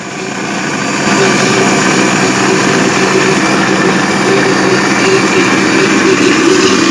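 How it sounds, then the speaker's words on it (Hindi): A blender grinding peaches with a glass of water into juice, a steady loud motor whir and churning that rises after the first second and holds evenly throughout, with no talking. "अब हम इसको ग्राइंड करेंगे।"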